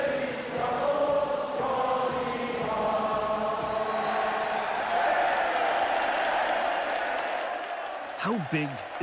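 A huge rugby crowd of around 50,000 shouting and singing at a championship match, a dense, continuous roar with sustained sung tones throughout, steady and loud.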